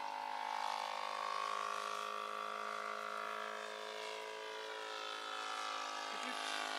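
A model Sopwith Pup airplane flies on its maiden flight at half throttle, giving a steady droning engine tone that holds level and fairly distant throughout, with no speech over it.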